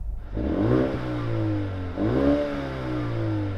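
A Mercedes-AMG A35 engine is revved twice in succession, each blip rising sharply then settling back to a steady, loud idle, heard close with no one speaking.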